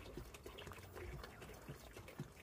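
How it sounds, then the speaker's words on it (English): Engine coolant trickling from a bottle into a container for a 50-50 mix with water, a faint, steady liquid dribble throughout, quiet and alone. "You see it now, I'm dropping the coolant now."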